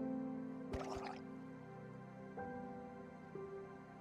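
Watery drips and soft bubbling pops sound over a low humming tone in Minecraft, a few sparse liquid plops in a quiet space.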